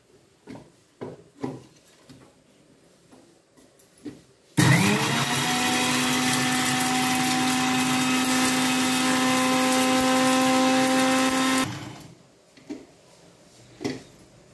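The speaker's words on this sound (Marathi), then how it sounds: "आणि मिक्सरला फिरवू." Mixer grinder running on roasted ingredients and black salt, a loud steady whirring motor for about seven seconds that starts abruptly and winds down, with scattered clicks and knocks of handling before and after.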